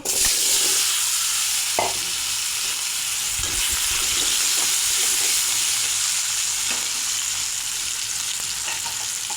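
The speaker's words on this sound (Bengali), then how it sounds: "কেটে রাখা আলুগুলো ভেজে নেব" Cut potatoes fry in oil in a pan, a constant loud sizzle with occasional soft stirring knocks and pops, close by and without any voices.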